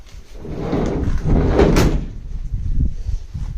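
The door of a VW Type 2 van under restoration, still working but held on a cable after losing a clip, closes near the mic with a mid-clip thud amid metal rattling and handling noise.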